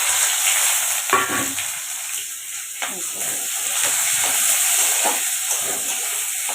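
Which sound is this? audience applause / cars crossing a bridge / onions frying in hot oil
onions frying in hot oil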